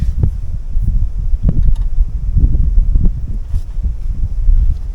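Steady low wind buffeting a microphone, rumbling and gusting throughout with no voices.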